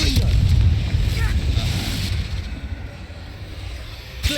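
Confringo blasting curse going off in the Hogwarts Legacy video game, a heavy rumbling explosion up front that decays into a lingering low roar, with a small sharp pop right at the end.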